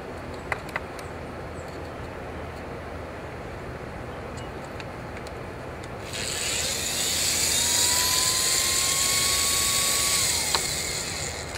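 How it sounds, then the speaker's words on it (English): A small drill motor powered entirely by a solar panel spins up partway through, a steady whine rising to a sustained buzzing hum that holds for several seconds before a click cuts it off, near and fairly loud. "Let's see if it'll do a drill motor."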